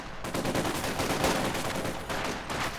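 Submachine guns fire in dense, continuous bursts during a Company of Heroes 2 battle as infantry pushes forward, a loud crackling rattle of overlapping shots with no pauses.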